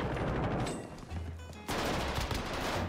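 Gunfire in Warzone, rapid automatic bursts that fill the clip, briefly easing to a lull before another loud burst resumes, with no talking.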